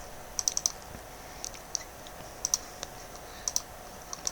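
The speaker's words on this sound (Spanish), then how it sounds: "Hago doble clic" A computer keyboard and mouse click softly in short, sparse bursts, with a few single taps and quick double clicks, close and quiet against a faint background hum.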